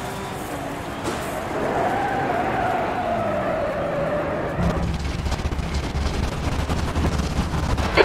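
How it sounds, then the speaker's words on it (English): A touring car in rFactor 2 at Oulton Park locks its front left tyre, producing a rising engine whine with a sustained tyre skid, then a harsher rumbling, crackling surge as the car continues, loud and continuous. "You're locking your left front into Cascades."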